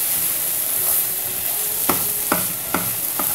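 Carrot halwa rich with ghee is stirred in a pan on the stove, giving four distinct spatula scrapes in a slow rhythm over a steady background hiss, close and fairly clear with no talking.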